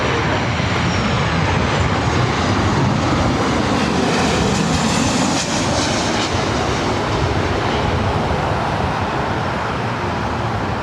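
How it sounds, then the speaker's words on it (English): A WestJet Boeing 737 MAX 8 departing Los Angeles International for Calgary creates a loud, sustained jet roar with a slowly shifting whine, dense and unbroken throughout, with no voices. "followed by WestJet flight 1511 heading to Calgary in a 737 MAX"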